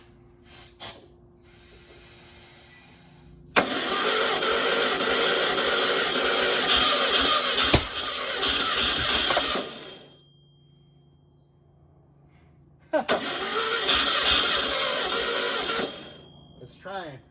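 A Volkswagen 1600 dual-port engine that has sat for years cranks on a stand, two long loud bursts of grinding starter noise separated by a quiet pause, with voices around it.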